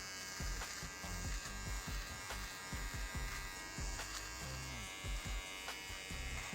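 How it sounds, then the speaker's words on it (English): Steady, loud buzzing of an electric beard trimmer up close, pitch shifting slightly as the blades drag through hair; no talking. "Now turn the buzzer upside down and punch back up toward it."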